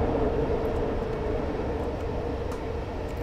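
A steady mechanical rumble and hum of a DDM double-decker train rolling along in Train Simulator 2021, with a faint tonal whine running through it, continuous throughout.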